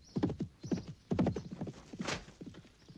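A horse galloping sound effect in the film Lionman: hooves clop in a fast rhythm, close and fairly loud, with a brief whinny-like cry partway through.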